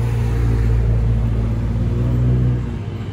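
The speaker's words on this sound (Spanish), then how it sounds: "hay mucho ruido con los coches" Road traffic on a busy daytime street in Peru, a continuous loud rumble of passing cars with engine drone that eases slightly near the end.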